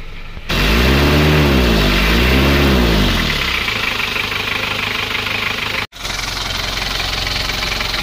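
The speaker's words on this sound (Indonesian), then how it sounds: "Kita tinggikan gasnya." A car engine being worked on in a repair setting climbs through two loud rising-and-falling throttle revs, then settles into a steady, rough idle that carries on alone after a brief dropout.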